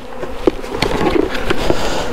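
A close, continuous hum of honeybees being transferred from a nucleus box to a hive, with a few soft knocks and clicks of handling over the buzz.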